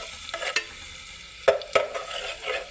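Ginger and garlic are stirred and sautéed in a pan for a spinach dal curry, with a soft steady sizzle broken by several sharp scraping strokes of the spoon.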